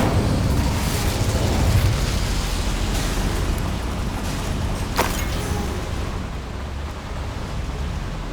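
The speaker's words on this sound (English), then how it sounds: "Incendio should be enough to light these flames." An Incendio fire spell lighting flames in Hogwarts Legacy, a sustained roaring whoosh of fire at steady loudness with a sharp crackling snap partway through.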